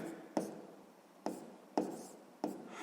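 Pen writing numbers on paper during a sixth-grade math exercise: four short, distinct scratchy strokes spaced apart, faint and close, with no speech.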